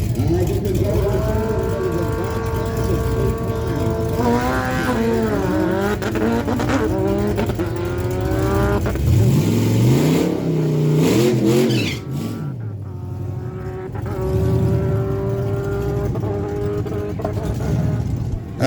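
A 2000 Kawasaki ZX 600R and a 2004 Suzuki Hayabusa launch at Miramichi Dragway. Loud engines rev and climb through rapid gear shifts, then fade down the track while an announcer talks over them.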